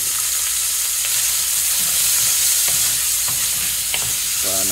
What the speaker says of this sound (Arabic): ونستمر نحرك معنا البصل والثوم والبسبس الأخضر